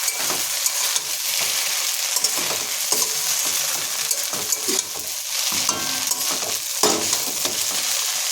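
Chowmein with eggs being stirred and fried in a pan, a steady close sizzle broken by frequent scraping and clattering strokes of the spatula, with no talking.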